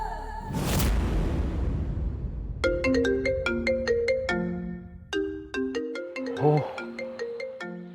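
A mobile phone rings for an incoming call with a melodic ringtone of crisp, repeating tones. It starts right after a loud whoosh and plays clearly for several seconds.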